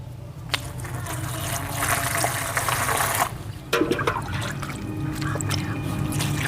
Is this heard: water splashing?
yes